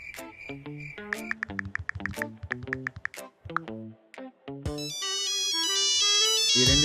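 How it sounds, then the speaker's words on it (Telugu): A phone ringtone plays nearby as a call comes in: a plucky, bright melodic tune of quick notes, then a louder, sustained chiming phrase, with no voices over it. "ఈడేంటి ఇప్పుడు ఫోన్ చేస్తున్నాడు?"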